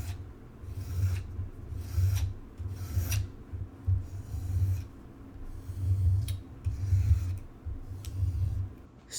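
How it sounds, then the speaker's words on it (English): Scissor blades are rubbed along a leather strop in a steady back-and-forth rhythm, each pass a soft, close rasping swipe, about a dozen strokes with brief pauses and no talking. "So I'm gonna strop these."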